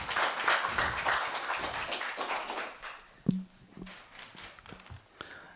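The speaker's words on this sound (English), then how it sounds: "Give them a round of applause." Clapping from the audience at a stakeholders' meeting in Kenya on antimicrobial resistance. A moderately loud round of applause runs for a couple of seconds, then fades into scattered taps and a few thuds.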